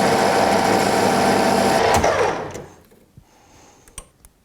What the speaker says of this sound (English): I'm going to bring this boring bar in, and we're going to be coming in here and just opening it up ever so slightly.